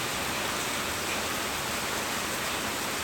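Steady rain falls outside during a heavy downpour, a dense, even hiss with no breaks that fills the whole scene at a constant moderate level.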